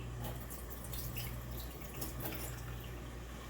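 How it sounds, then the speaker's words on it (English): Water from about three small boiled potatoes is poured off in a kitchen, making a steady, close splashing and gurgling stream that runs continuously without a break. "Pour the water off of them."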